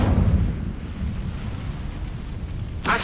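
An Incendio fire spell in Hogwarts Legacy lets out a loud, rumbling burst of flame that roars, then fades to a low crackling rumble before a short sharp flare at the end.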